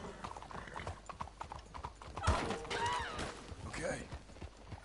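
In the video game Red Dead Redemption 2 on PS4, rhythmic clopping of horse hooves with a whinny in the middle, under faint background voices, moderately near.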